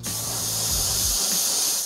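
An airbrush sprays paint directly through a loose bark template laid flat, giving a steady close hiss from start to finish with a low rumble that fades early on.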